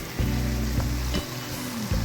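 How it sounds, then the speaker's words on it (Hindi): Chicken curry being fried in a pan with ginger and ground spices, giving a loud close sizzle with repeated sharp stirring scrapes at short intervals. "अब हम इन तमाम चीज़ों को अच्छी तरह भून लेंगे।"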